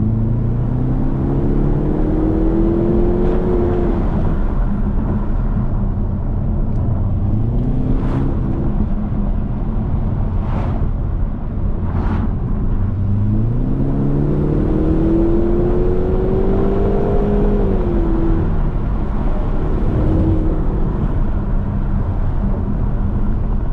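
A 2018 Jaguar F-Type Coupe engine runs in race mode with the exhaust baffles on, heard from inside with the window down: steady loud drone with two rising rev sweeps and a few sharp pops, no talk.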